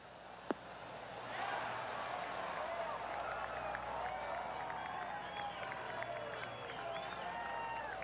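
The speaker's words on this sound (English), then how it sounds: "Oh, golf clap." After a single sharp click, a soft, steady ripple of golf-gallery applause from a crowd rises and continues, with faint chatter mixed in, in the PGA Tour 2K23 video game.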